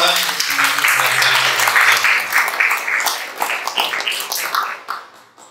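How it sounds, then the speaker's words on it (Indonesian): A church congregation at an evening service breaks into applause: dense, loud clapping from many hands that holds steady, then thins into scattered claps and fades out near the end. "Mari kita berikan tepuk tangan."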